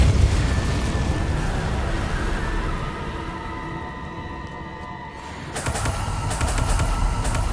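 A Confringo fire spell bursts in the Hogwarts Legacy video game as a deep rumbling boom that fades into a hollow rolling tail before another crackling blast, loud and without speech.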